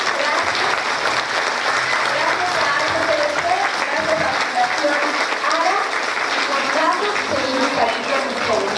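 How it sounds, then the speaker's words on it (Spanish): Sustained, dense applause from an audience at a library event fills the whole stretch at an even, loud level, with excited voices and cheering rising over the clapping. "un aplauso para todos ustedes"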